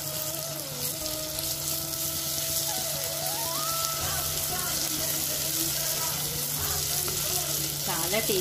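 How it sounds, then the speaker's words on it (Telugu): Ginger sizzles in hot oil in a pan for a capsicum masala curry, a steady frying crackle running the whole time, with faint tonal household sounds in the background. "అల్లం వేగిపోయిందండి"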